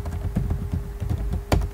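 Someone types C code into Notepad++ on a computer keyboard: a quick, uneven patter of close keystrokes with a sharper tap near the end, and no talking.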